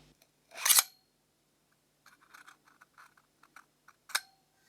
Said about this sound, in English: On the bottom there are two obvious screws, and removing them allows the bottom casing to easily slide off.